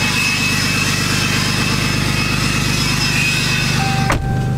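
A 2018 6.7-liter Cummins diesel truck engine with an upgraded intake runs steadily up close, a loud, constant drone with a whistling intake whine that cuts off abruptly near the end.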